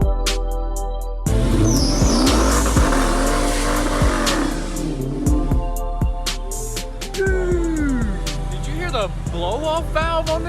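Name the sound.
supercharged car doing a burnout, engine revving, tires spinning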